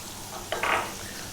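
Onion and chopped garlic hit hot oil with a brief, quiet sizzle that flares up for a moment and then settles into a faint hiss.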